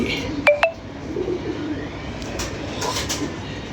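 Two quick wing claps up close, followed by soft pigeon cooing and rustling in the background.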